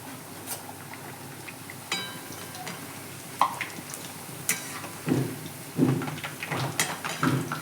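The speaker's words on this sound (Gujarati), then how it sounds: "આ રીતના અંદર 2 તતન પૂરી ઉમેરી અને તેને સારી રીતના તળી લેવાની." Two puris made from maida flour frying in hot oil in a kadai, a soft bubbling sizzle with occasional clinks and stirring knocks, growing busier toward the end, with no talking.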